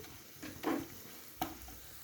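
Turmeric and salt frying in hot oil in a pan, with two short scraping stirs standing out from a quiet, low sizzle; faint and close, with no voices.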